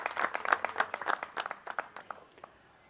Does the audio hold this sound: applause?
yes